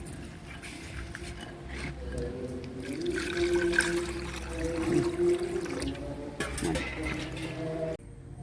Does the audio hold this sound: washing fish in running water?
yes